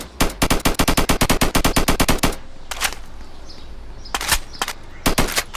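Rapid automatic gunfire in a video game rattles out in a long, loud burst of closely spaced shots, then after a pause comes a few more scattered shots and a short final burst.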